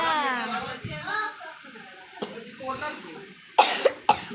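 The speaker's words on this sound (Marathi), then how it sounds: "मला खोकला झाला, सर्दी झाली" A person with a cold and cough talks, then coughs in several sharp, close bursts.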